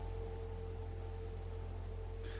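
Rain-like coolant falling in a VRChat game gives a steady fine patter over a constant low electronic hum, with no talk.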